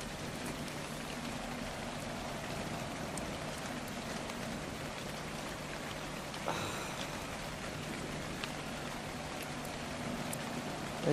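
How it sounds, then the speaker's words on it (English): Steady rain falls in the video game ARK: Survival, a dense, even patter of drops on surfaces that continues throughout, with a brief brighter splash partway through and no voices. "Get me out of the rain."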